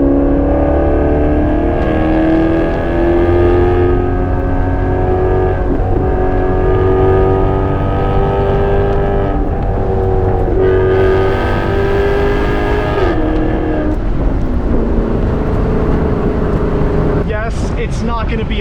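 Cheap exotic sports car driving fast on a winding road, engine droning loud and steady from inside the cabin with rising and falling revs as it accelerates, while someone talks over it throughout.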